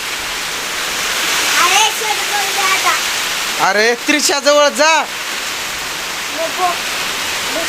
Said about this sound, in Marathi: बापरे लईच पाऊस लईच पाऊस